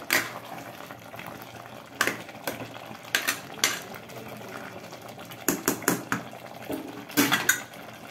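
A spoon stirs chili powder into mutton curry in a pot with intermittent scraping and clinking against the metal. The strokes come in irregular bursts over a quiet background.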